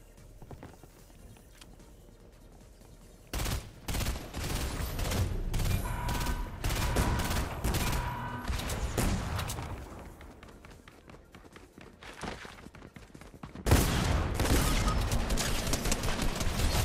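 Gunfire in the Fortnite battle royale game, with bursts of rapid shots breaking out over a busy background of game noise and footsteps, moderately loud, including a heavy volley near the end.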